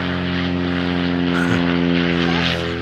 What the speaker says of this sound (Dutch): Nou, gaan nog een vliegtuig!